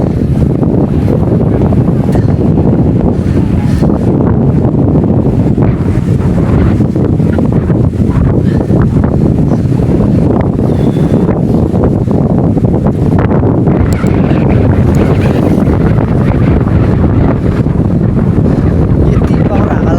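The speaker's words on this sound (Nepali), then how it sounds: "यति पावर हावा लाग्छ।" A strong, gusty wind blasts the microphone on an open road during a stormy day while cycling, a loud, continuous roar and rumble that rises and falls under occasional talk.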